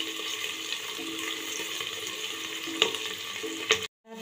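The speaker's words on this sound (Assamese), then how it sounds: "পিঁয়াজখিনি অলপ মই ৰঙা কৰি লওঁ।" Onions fry in a pan with a steady, close sizzle and light crackle, broken by a couple of brief stirring clinks near the end before the sound cuts off.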